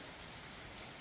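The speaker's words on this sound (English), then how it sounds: "You can probably hear the rain outside right now." Rain falls steadily outside a traditional inn in Tsumago, Japan, a soft, even hiss of drops with no other sound.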